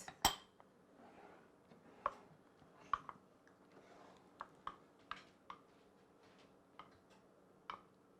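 Pickled radish, peppers and mayonnaise stirred in a dish, heard as sparse, irregular clinks and taps of a utensil against the dish, quiet and close with faint background between strikes.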